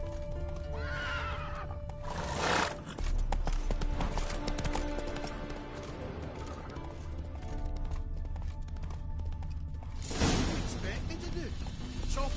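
Roach, a horse in The Witcher 3, gallops with steady clip-clopping hooves and whinnies loudly near the start and again near the end. Game music and voices run underneath throughout.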